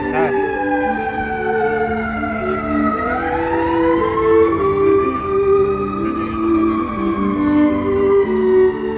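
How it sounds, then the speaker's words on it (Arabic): An ambulance siren wails loudly and continuously, its pitch sweeping down and back up, with other steady musical tones sounding beneath it. "صوت الاسعاف"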